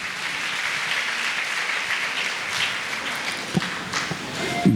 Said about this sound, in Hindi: हम ताली बजा के परमेश्वर को धन्यवाद दीजिए।